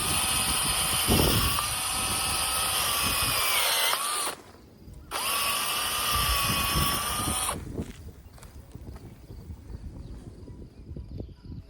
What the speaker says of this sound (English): use an auger to dig in each of those holes